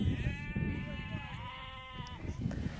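Sheep bleat in a pen, a long wavering call held for a couple of seconds over a busy background of other animals and rustling.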